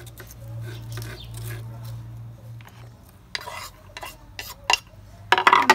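Pipián squash flowers are chopped with a knife for pupusas in a home kitchen. Light, irregular close knife taps and utensil clatter sit over a low steady hum, growing busier toward the end.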